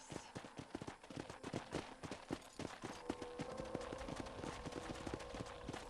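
Horse hooves clip-clop in a steady, brisk rhythm in the Western video game Red Dead Redemption, close and clear over a soft ambient background.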